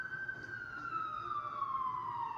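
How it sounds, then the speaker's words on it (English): A single siren wails in the distance, its tone sliding slowly downward as it fades, heard alone over a faint background hum. "Sirens."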